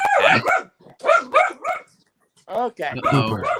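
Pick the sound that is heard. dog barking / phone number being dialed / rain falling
dog barking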